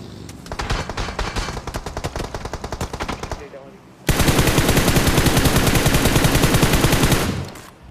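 Gunfire in the battle royale game BGMI comes as rapid bursts of automatic weapon fire, loud and close. The rattle is dense at first, dips briefly, then surges into a sustained, louder stream of shots before cutting off.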